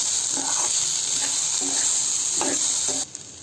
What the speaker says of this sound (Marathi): मग टॅमॅटो हे मिश्रण दोन ते तीन मिनटं परतवून घ्या